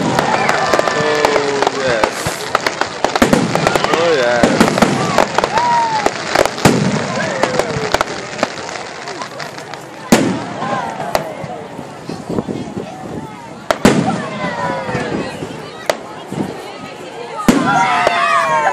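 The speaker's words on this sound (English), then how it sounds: "Actually, I didn't see fireworks for a long time." Fireworks bang and crackle repeatedly at a bonfire night display in Harrogate, with sharp reports and fizzing whistles over a crowd while people nearby talk and exclaim.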